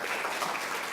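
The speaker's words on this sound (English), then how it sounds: "we give her a little round of applause since she's in the room" Audience in a lecture room at a Tourette syndrome symposium giving a short burst of applause, a dense wash of many hands clapping at moderate level.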